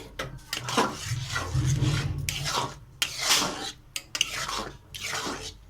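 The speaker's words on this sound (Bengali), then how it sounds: "এরকম ঘষে ঘষে নেড়ে নিয়ে শুকিয়ে নিতে হবে" A spatula scrapes and stirs a thick chana dal sandesh mixture in a pan, close rasping strokes in irregular bursts separated by short pauses.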